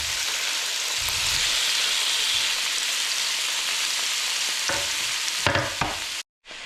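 Tomatoes frying in a little olive oil in a pan, a steady broadband sizzle throughout with stirring scrapes near the end before it cuts off abruptly.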